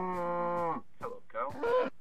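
A cow mooing in the game Minecraft: one long drawn-out moo followed by a couple of shorter, wavering moo calls, close and clear with no talk.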